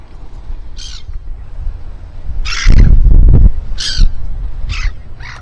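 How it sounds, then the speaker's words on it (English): Seagulls call in loud, harsh bursts on a beach, several separate cries spread over a few seconds above steady wind and a brief low rumble. "And here come the seagulls."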